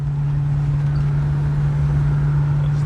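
A classic car is driven along, heard from inside the cabin as a steady, loud low engine drone with even road rumble and no talking.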